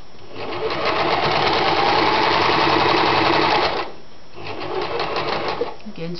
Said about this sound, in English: make sure that the needle is in the fabric, turn it round and sew.